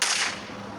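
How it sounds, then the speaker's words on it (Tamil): Single sharp sniper rifle shot in the Indian Bikes Driving 3D video game, a loud burst of broadband crack that decays into a short fading tail, with no voices. "ஸ்னைப்பர் இருந்தால் தான் லாங் ரேஞ்ச் சுடும்"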